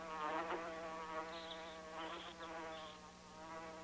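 An insect buzzing around a flower, a steady droning hum with slight shifts in pitch as it moves, close and continuous with no talk.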